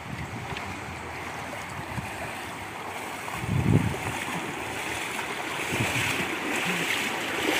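Floodwater swirls and rushes around a tricycle being pushed through a flooded street in San Ramon, Iriga, during a typhoon, a steady churning wash with a louder splashing surge midway.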